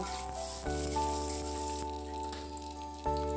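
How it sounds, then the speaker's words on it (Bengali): Onion and garlic frying in oil with black cumin, a steady close sizzle and crackle with a few louder surges, running alone without talk. "ওতে কয়েক কোয়া রসুনও দিয়েছি, দিয়ে ভালো করে ভেজে নেব।"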